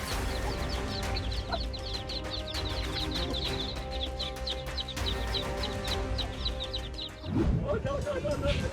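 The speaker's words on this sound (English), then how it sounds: "A mother hen grows especially alert when any threat comes near her chicks." Mother hen clucking near her chicks in a steady stream of close, repeated soft clucks, with thin peeps and scattered fowl calls over outdoor background noise.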